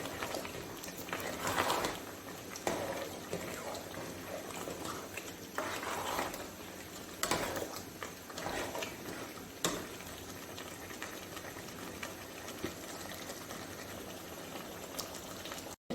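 Beef sizzles and bubbles steadily in hot oil as it is sautéed for Bannu pulao, a continuous moderate frying hiss with occasional louder stirring clatters throughout.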